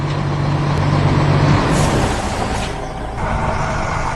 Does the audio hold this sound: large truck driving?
yes